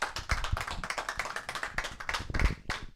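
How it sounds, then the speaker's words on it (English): Clapping from an audience at a Formula Vee Ireland scholarship awards night, a dense run of hand claps at fairly close range, steady and lively without a break. "we'll have a clap first"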